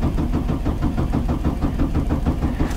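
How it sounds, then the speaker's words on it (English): A car engine on a $500 car that won't start cranks over with its fuel pump relay pulled, giving a steady, rapid rhythmic chugging of the starter turning the engine, close and fairly loud throughout. "all we need to do is crank the engine over a couple of times"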